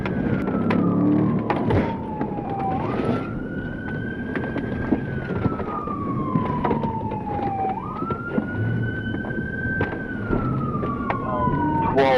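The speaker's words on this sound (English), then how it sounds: "give chase as sirens cut through the day" Police car sirens wail in long rising and falling sweeps during a police chase, repeating over steady road traffic noise and engine rumble.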